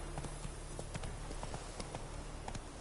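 Horse hooves clip-clop at a steady trotting rhythm in The Witcher video game, a faint, evenly paced run of hoofbeats with no voices over it.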